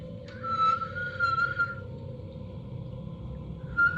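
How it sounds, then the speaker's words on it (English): Thin sustained whistles, a long one then another starting at the end, sound faintly over a low steady outdoor hum. "Whistle a couple times for me."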